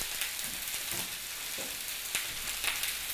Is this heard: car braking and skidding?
no